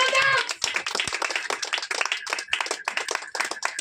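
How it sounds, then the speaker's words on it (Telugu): A church congregation claps together in fast, dense, irregular bursts throughout, loud and close, with a brief voice at the start. "ఒక్కసారి చప్పట్లు కొట్టలేదా?"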